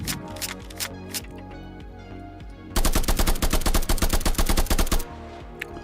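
A gun in the horror video game Lurking in Fear fires a few scattered single shots, then a rapid, loud burst of automatic fire lasting a couple of seconds before stopping abruptly.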